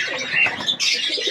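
Pigeons coo and chirp in a loft housing chocolate doma birds, with a busy, continuous layer of close bird calls and no talking.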